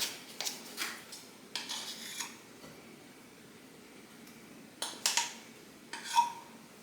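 Butter, baking soda and baking powder being mixed in a bowl, heard as intermittent bursts of scraping and clinking from a utensil, close, separated by quiet pauses, with no talk.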